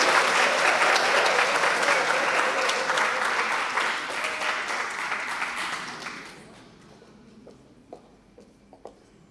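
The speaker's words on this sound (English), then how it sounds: "let's give her a round of applause" An audience at a public speaking event applauds a speaker in a full, lively burst of clapping that fades out over several seconds, leaving a few scattered claps in a quiet room.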